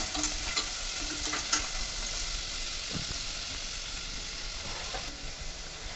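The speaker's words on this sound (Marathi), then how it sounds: "हे कांदा आणि लसूण परतून घ्या" Chopped onion and garlic sauté in a pan for a mutton curry, giving a continuous close sizzle with occasional stirring clinks and scrapes throughout, and no speech.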